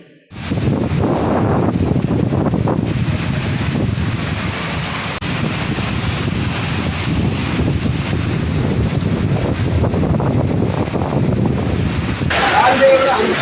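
Strong winds buffet the microphone with heavy, continuous roaring gusts during a heavy rainstorm in Salur town, with a dense low rumble sustained throughout.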